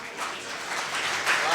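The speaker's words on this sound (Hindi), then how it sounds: "ताली बजाओ इस पर" Audience applause at a Hindi kavi sammelan poetry gathering, a steady broadband wash of many hands clapping that swells slightly toward the end, heard alone without talk.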